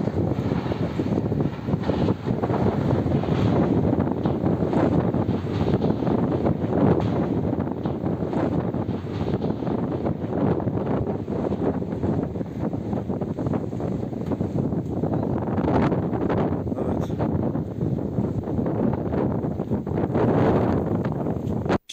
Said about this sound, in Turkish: Etkili olan kuvvetli rüzgar güney çevre yolunda evlerin çatılarını uçurdu.